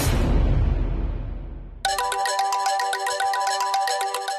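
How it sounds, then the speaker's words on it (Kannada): A phone ringtone plays for an incoming call, cutting in abruptly after a fading low rumble and repeating a bright, steady melodic pattern loudly and without any talk over it. "ತ್ರಿಶೂಲ್ ಫೋನ್ ಮಾಡ್ತಿದ್ದಾನೆ"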